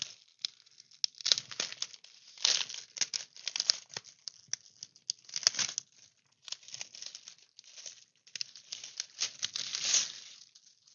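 Plastic packaging of a cross-stitch kit being opened, with bursts of close crinkling and tearing spread across the whole stretch, starting and stopping irregularly with no talking.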